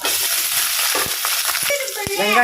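Onions sizzling and frying in a pan with urad dal, curry leaves, and green and dried chilies for idiyappam upma, a steady crackling hiss with occasional stirring scrapes, close and fairly loud.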